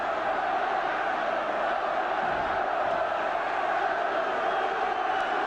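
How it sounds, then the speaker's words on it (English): A football crowd in the stands, with trouble breaking out in one corner of the ground, roars as a continuous distant wash of voices with no distinct shouts standing out. "And there's some crowd trouble in the corner of the ground at the Roker end."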